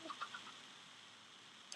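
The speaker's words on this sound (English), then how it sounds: "Whoa, I have a lot of chickens." Chickens in the video game Minecraft give a few soft, brief clucks at the start, then fade into a quiet background hiss.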